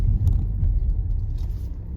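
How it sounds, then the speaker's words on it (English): An Audi SQ5 on a test drive gives a steady low engine and road rumble from inside the cabin, with no talk. "Let's go and have a little test drive and see what we think."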